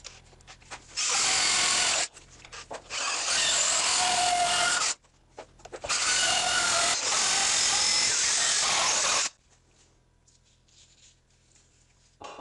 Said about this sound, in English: one 10-inch long internal weld seam reduced to shavings